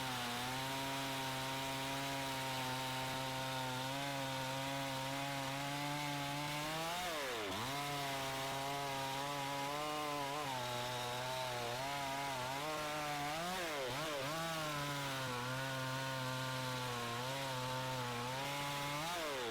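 A Chinese-made chainsaw cuts wood, its engine note alone and steady, then dipping and revving sharply around each cut before settling back.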